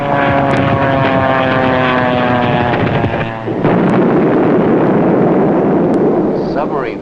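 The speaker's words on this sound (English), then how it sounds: "Submarine fighting a plane." A World War II fighter plane attacks the submarine USS Gato: a loud propeller engine roar with a falling pitch gives way to a dense, heavy burst of gunfire and explosions that runs to the end.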